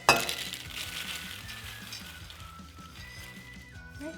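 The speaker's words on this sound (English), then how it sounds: "Let's dump our popcorn into our bowl." Freshly popped movie-theater-style popcorn is dumped into a bowl, opening with a sharp clatter and then settling into a soft, fading rustle and patter of kernels, close and fairly quiet.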